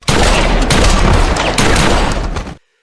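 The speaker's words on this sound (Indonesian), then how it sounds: "Tapi John dengan cepat mengisi senjatanya. Dan John menghabisi musuhnya terlebih dahulu." Loud, dense gunfire from an action film shootout rattles continuously for about two and a half seconds as rapid overlapping shots, then cuts off abruptly into silence.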